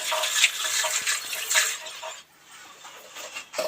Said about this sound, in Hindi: तो वही हम यहाँ पे कपड़े धो रहे थे और सुबह जल्दी धो के डाल देंगे